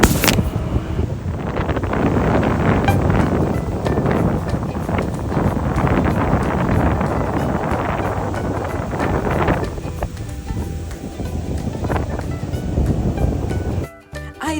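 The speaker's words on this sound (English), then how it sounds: "We had incredible winds at 45 miles an hour, plus gusts up to 70 miles an hour." Strong gusty wind in open North Dakota country, gusts near 70 mph, roars steadily and loudly against the microphone for about fourteen seconds, surging and buffeting before a brief sudden drop near the end.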